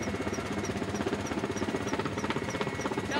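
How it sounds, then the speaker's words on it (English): A motorcycle engine rumbles nearby at a steady idle, its low pulsing throb loud and continuous with a faint mechanical rattle. "Sounds almost like a Harley."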